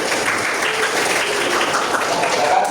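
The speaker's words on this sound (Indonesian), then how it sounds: "beri aplaus untuk kelompok 3" A classroom audience gives a student group a sustained round of applause, loud and close, with dense clapping holding steady throughout while a voice speaks over it.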